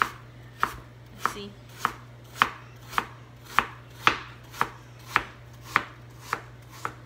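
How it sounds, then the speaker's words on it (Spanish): A knife chops food into very small pieces on a board, about a dozen crisp, evenly spaced strokes in a steady rhythm, close and clear with a faint hum underneath and no speech. "La voy a cortar en pedazos bien, bien chiquitos."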